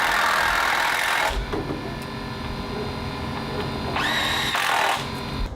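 A power tool fastens a rim joist to deck framing during a bungalow restoration, whirring loudly in two bursts with a quieter mechanical hum between them and a brief high whine near the end.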